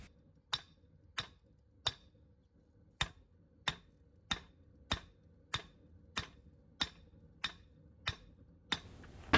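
A 10-pound crossbeam hammer strikes a chef's knife blade being forged, about fourteen sharp, ringing blows landing at an even, unhurried pace, each clear and distinct against a quiet background.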